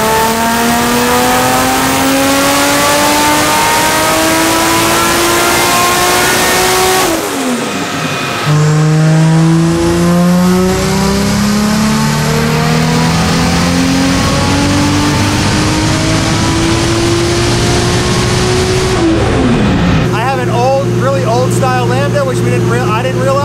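A car with a 2JZ engine roars on a dyno in a loud, close, sustained run. The pitch climbs steadily, drops abruptly near 8 and 19 seconds, then climbs again, like successive gear pulls, before ending in a rough, fluttering high-rev tone.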